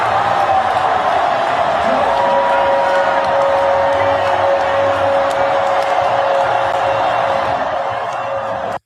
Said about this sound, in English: cheering on the USA goal